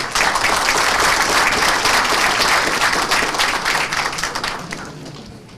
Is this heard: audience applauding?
yes